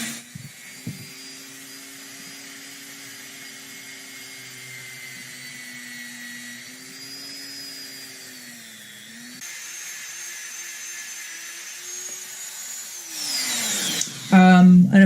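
A Dremel rotary tool set to speed 8 sands a figure, giving a steady, loud high-pitched whine that dips and wavers as it meets the surface, then rises sharply near the end.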